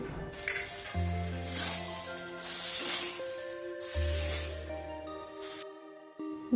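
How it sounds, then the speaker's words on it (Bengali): Mashed potato and paneer filling frying in a pan, with a steady close sizzle and occasional stirring, under a looping background music track. "এবার ওর মধ্যে মেখে রাখা আলু আর পনিরটা দিয়ে দিচ্ছে।"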